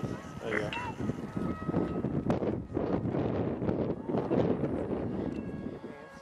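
Gusty wind buffets the microphone with steady low rumbling and roaring, while faint voices murmur underneath.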